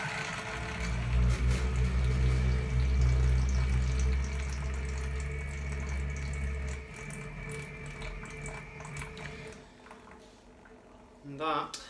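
Wort and trub drain from a BrewTools B80pro brewing system into a waste bucket, giving a steady gushing, gurgling flow with a low rumble that fades toward the end.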